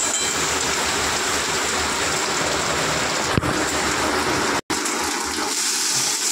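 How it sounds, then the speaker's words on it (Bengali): Heavy rain pours down steadily and loudly, a dense continuous roar of drops on surfaces nearby, with one sharp knock partway through. "দেখো বলতে বলতেই বৃষ্টি, জোরে বৃষ্টি চলে আসছে"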